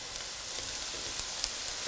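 Onions and carrots frying in a pan for Iranian qaliyeh maahi, a steady soft sizzle throughout with a few faint pops and crackles, close by and with no talk.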